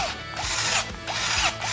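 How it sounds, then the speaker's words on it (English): A screwdriver driving screws to fix a steering servo into its bracket on a UD1002P RC car chassis, giving close mechanical whirring bursts with short pauses between turns. "Insert the servo into the servo bracket. Fix it with screws on both sides."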